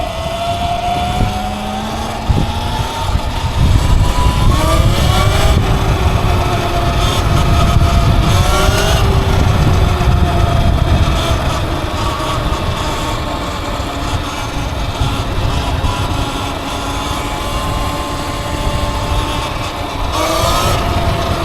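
Surron electric dirt bike pulling hard in fifth gear on a cycle path, a steady whining drive tone rising in pitch over several surges, loud and close with wind rush throughout.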